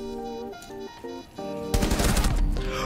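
Gunfire in Rainbow Six Siege, a loud rapid burst of automatic shots erupting after a tonal game sound, close and harsh, with no voices over it.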